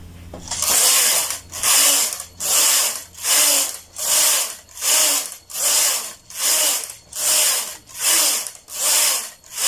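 A knitting machine carriage is pushed back and forth across the needle bed while knitting rows for a twisted headband, giving about ten loud, evenly spaced rasping clatters in a steady rhythm, one per pass.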